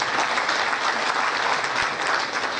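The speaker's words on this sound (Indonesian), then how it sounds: "Kita kasih tepuk tangan itu." A crowd at an official inauguration ceremony claps steadily, dense applause filling the space for its whole length.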